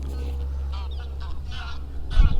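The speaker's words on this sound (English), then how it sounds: "Birds always distract me when I'm filming for some reason." Goose-like birds honking outdoors over a low steady wind rumble, a series of moderately distant calls repeating through the stretch with a louder bump near the end.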